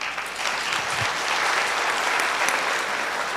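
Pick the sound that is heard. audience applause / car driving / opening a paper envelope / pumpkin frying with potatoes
audience applause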